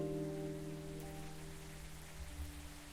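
Steady rain falling in the video game Coffee Talk, a soft continuous patter under a sustained musical tone, faint and even throughout.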